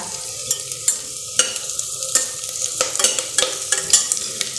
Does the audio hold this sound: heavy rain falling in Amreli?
no